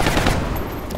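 A dense burst of rapid automatic gunfire from the video game XCOM Long War, loud and continuous over about a second with no pauses.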